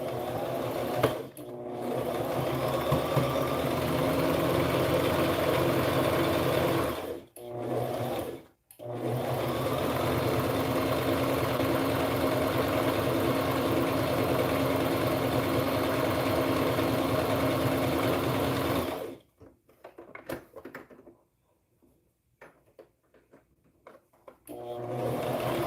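A sewing machine runs in long steady stretches while back stitching a seam on preemie shorts. Short pauses break the motor's whir before it settles into scattered quiet handling sounds.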